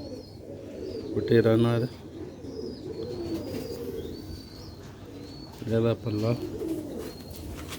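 Pigeons coo repeatedly in a loft, with deep rhythmic bursts around two moments and softer chirps and calls between, while someone speaks over them.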